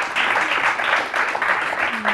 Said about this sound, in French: On applaudit très très fort Asma de Lumière.